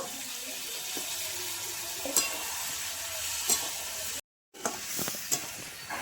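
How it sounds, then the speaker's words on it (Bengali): Taro and potato sautéing in a pan with cumin and chili powder and a splash of water for a fish-head curry, giving a steady hiss with occasional stirring scrapes, briefly cut off before resuming. "জিরে গুঁড়ো, লঙ্কা গুঁড়ো, একটুখানি জল দিয়ে আমি ভালো করে কষিয়ে নেব।"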